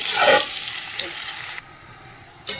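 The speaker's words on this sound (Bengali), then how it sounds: "পেঁয়াজটা ভাজা হচ্ছে" Onions fry in a pan in a home kitchen, giving a soft sizzling hiss with a louder burst of stirring at the start and another brief stir near the end, close and fairly quiet.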